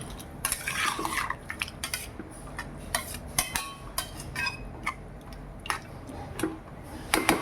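A utensil stirs vegetable curry pieces with a little water in a cooking pot, making irregular clinks and scrapes of metal on metal against a steady low background, close up and with no voices.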